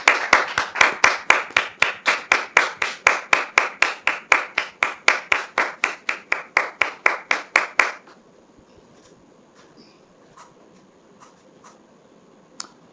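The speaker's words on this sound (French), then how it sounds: "Sous vos applaudissements, s'il vous plaît." A studio audience on a television talk show welcomes a guest with loud rhythmic clapping in unison, sharp regular beats for several seconds that stop abruptly and leave quiet room sound with a few faint taps.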